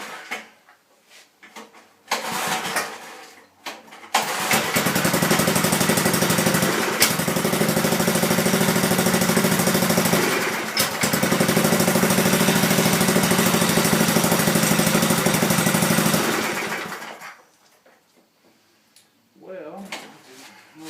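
Manco Thunderbird mini bike engine idling during warm-up, a steady loud putter of about twelve seconds after a few starting bursts, then cutting out, with brief sounds near the end.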